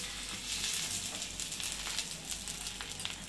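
Thalipeeth flatbread roasting on a hot pan gives a steady, soft sizzle and crackle close by, with no talking.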